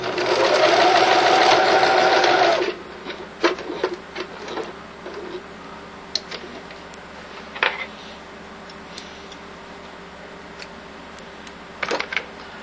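A sewing machine runs in a steady, loud burst for about two and a half seconds while stitching bias tape onto the underside of a tarp, then gives way to scattered clicks and handling taps.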